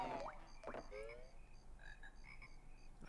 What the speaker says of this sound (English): I can already hear the frogs.